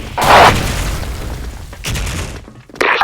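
A grenade goes off in a video game with a loud booming blast that decays into rumbling debris, followed by a second burst and a sharp crackling hit near the end.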